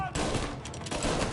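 Gunfire from the Mafia: Definitive Edition video game: a dense burst of overlapping shots packed into little more than a second, loud and continuous like a fusillade, with faint voices mixed underneath.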